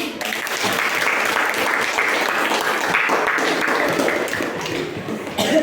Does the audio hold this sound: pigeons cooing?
no